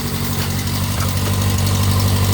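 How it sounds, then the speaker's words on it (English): Yamaha XJ900F inline-four motorcycle engine idling steadily up close, a smooth, even low rumble with a faint mechanical tick, held constant for a couple of seconds without any talking. "Listen to the engine."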